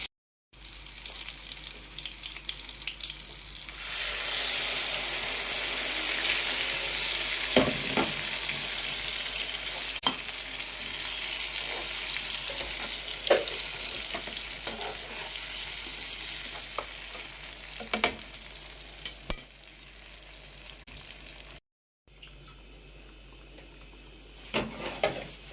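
Tomatoes frying in a pan with slices of pepper and garlic for eggplant moussaka, a loud steady sizzle that gradually quietens, with scattered clinks and a brief pause near the end.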